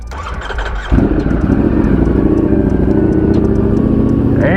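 A small motorcycle starts up nearby: a few seconds of low cranking and idle, then the engine catches into a loud, rough, steady running note that holds to the end.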